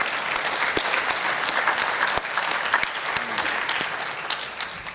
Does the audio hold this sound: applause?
yes